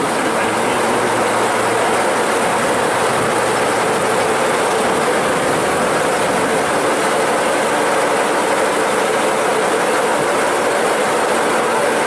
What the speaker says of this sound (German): Die Lok wird jetzt nur einmal komplett gedreht und geht wieder Richtung Bahnhof.